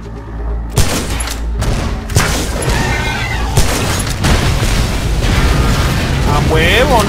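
Repeated heavy blasts and crackling bursts inside a house in the video game Shadow Warrior, loud and dense across several seconds, with someone talking over them.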